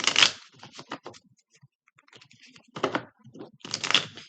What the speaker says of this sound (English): I've shuffled these, so I'm only going to shuffle this a little bit.